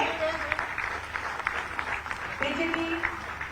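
Applause at a ceremony handing teachers their appointment letters, moderate clapping from a gathered crowd running throughout with a voice briefly speaking over it.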